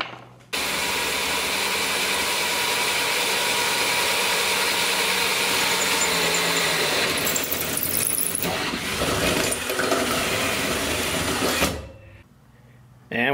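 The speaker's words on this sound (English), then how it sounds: "my next job is to drill a hole through, you know, all three of these rebar" Power drill boring a hole through three lengths of steel rebar for a campfire tripod grill, a continuous loud close-up whine and grind that cuts off abruptly near the end.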